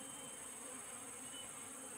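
Bees buzzing around tualang honey, a faint, continuous swarm hum with a steady high whine, distant and unbroken, without voices.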